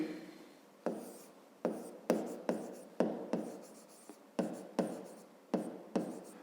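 Pen or chalk writing by hand during a fifth-grade math lesson, a series of about a dozen distinct scratchy strokes spaced roughly half a second apart, close and clear, with no talking.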